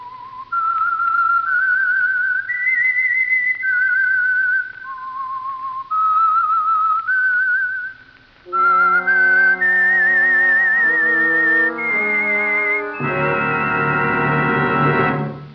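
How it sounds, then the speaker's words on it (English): The whistled theme of the 1949 radio program The Whistler, a distinctive melody, clear and sustained, moving through rising and falling notes, then joined by orchestral chords building to a full musical swell. "That whistle is your signal for the Signal Oil Program, The Whistler."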